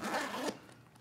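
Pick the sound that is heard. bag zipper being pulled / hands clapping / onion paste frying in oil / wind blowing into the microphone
bag zipper being pulled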